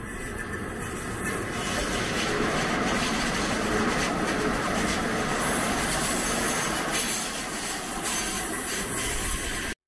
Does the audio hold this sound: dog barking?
no